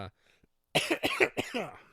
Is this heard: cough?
yes